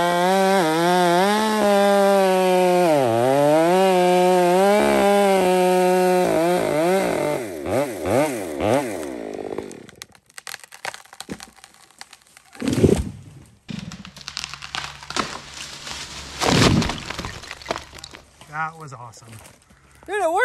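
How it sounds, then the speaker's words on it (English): A chainsaw revs loudly with wavering pitch before cutting out, followed by cracking, creaking and a heavy crashing thud as a large felled tree comes down, with people talking over the aftermath. "big timber coming down, guys."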